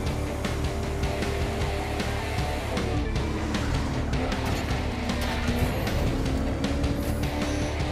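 A hypercar engine drones in a street race in The Crew 2, a loud sustained roar whose pitch climbs and shifts through gear changes.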